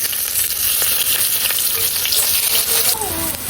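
Peppercorns, whole cumin, bay leaf and onion frying in hot oil for beef nihari, a loud, dense, continuous sizzle up close with no talking.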